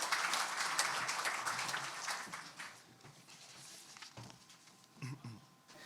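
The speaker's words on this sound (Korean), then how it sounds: "큰 박수 부탁드립니다." Audience applause fills a conference hall at a radiation-industry policy briefing, a dense patter of clapping that is loudest at first and gradually thins and fades over several seconds.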